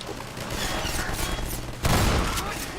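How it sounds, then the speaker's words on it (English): Submachine gun, modeled on the MP7, firing in the video game Half-Life 2: rapid bursts of dense automatic fire with a louder burst near the end, close and continuous. "The submachine gun in this game is modeled off the MP7."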